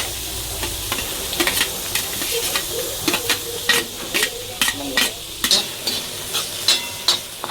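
Ground masala paste for vada pav fries in a pan, a steady sizzle broken by regular scraping strokes of a spoon stirring it, close and clear.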